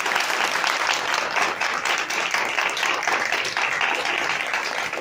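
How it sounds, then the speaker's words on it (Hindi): Audience applause during a Hindi/Urdu church service, with many hands clapping in a steady, even wash that stays loud throughout the five seconds. "जितनी तालियां आपने मेरे लिए बजाई हैं उससे कहीं ज्यादा तालियां आप खुदा के जिंदा कलाम के लिए बजाएं"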